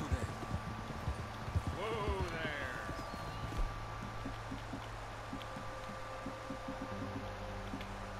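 Horse hooves clip-clop at a steady walking pace in Red Dead Redemption 2, faint and mixed with ambient game sounds and low background hum while a voice talks over them.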